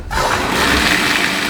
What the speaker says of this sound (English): Then the next thing we do is turn on the water.